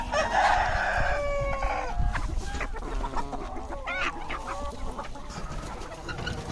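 A rooster crows loudly nearby, followed by a mix of hens clucking and squawking in a busy yard.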